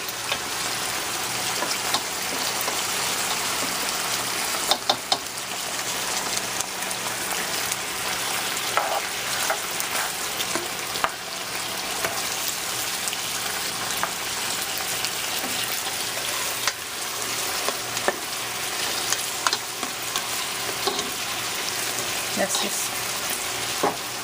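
Liver sautéing with garlic and ginger gives a steady, dense sizzle with occasional stirring scrapes and pops, continuous and fairly loud at close range for the full stretch.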